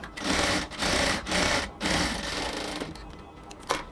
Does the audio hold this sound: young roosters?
no